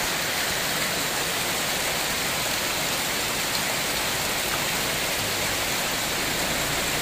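Heavy rain pours steadily in a dense, unbroken hiss during flooding in Metro Manila, loud and close, with no voices.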